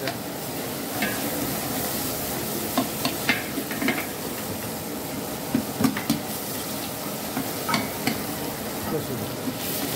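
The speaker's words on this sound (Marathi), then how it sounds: "हे अद्रक लसूण चाललंय बघा।" Ginger and garlic frying in a hotel kitchen for Latur-style borsuri dal, a steady sizzle with scattered clinks and scrapes of a stirring utensil against the pan, close and continuous.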